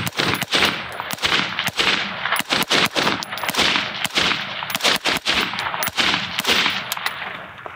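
Rapid carbine fire on a shooting stage: a fast series of loud, sharp, close shots in quick bursts across the whole stretch, with no talk.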